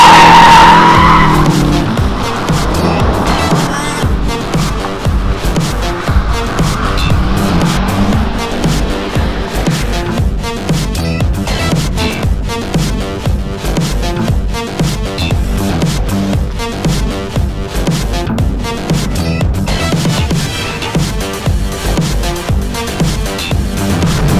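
A Subaru STI is driven sideways around the Dreux race circuit by an instructor, its engine roaring continuously while the tires squeal and skid through long drifts, loud and close throughout.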